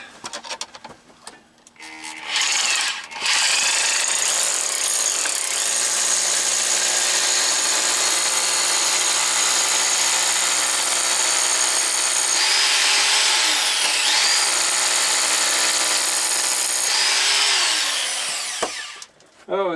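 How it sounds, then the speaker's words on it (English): A power drill bores a hole into wall rock in a mine, a loud continuous whine close by that dips and strains briefly partway through before stopping. "Oh, it's so much easier to drill wall rock than kryptonite."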